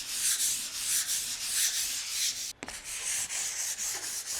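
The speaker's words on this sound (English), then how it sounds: "I'm just lightly rubbing it down with a 120 grit pad, just to make sure we get an even finish" Wooden window seat panels in a 1930s bungalow being lightly sanded with a 120 grit pad: a steady, close scratchy rubbing in repeated back-and-forth strokes, with one brief break partway through.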